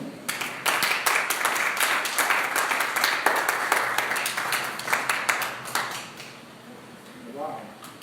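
Applause from a church congregation during a sermon, a dense burst of clapping lasting several seconds before fading, with a voice speaking briefly at the end.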